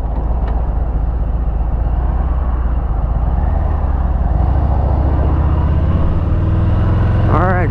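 A Harley-Davidson Deluxe motorcycle rumbles steadily at close range as it rolls up toward a showroom, its low engine drone constant throughout with a brief higher whine near the end.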